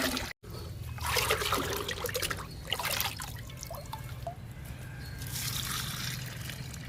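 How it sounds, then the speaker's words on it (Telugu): Liquid made from oats and kitchen waste trickles and splashes as it is poured into a can, a continuous dribbling flow that stops briefly after a quick break at the start. "డబ్బాలో పోస్తున్నానండి."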